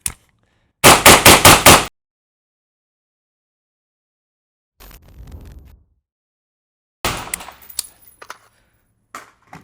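An 11.5-inch rifle fitted with a SOCOM 556 RC4 suppressor fires M193 rounds in a rapid burst of about six sharp shots. Quieter clatter and scattered pops follow after a pause.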